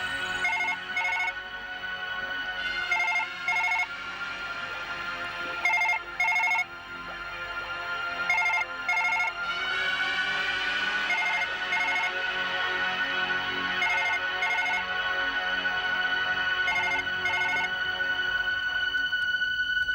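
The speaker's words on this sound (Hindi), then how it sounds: "फोन उठाओ।" A telephone rings on and on without being answered in a Hindi TV horror drama, its repeating electronic ringtone bursts loud and steady throughout, with a tonal sweep partway through.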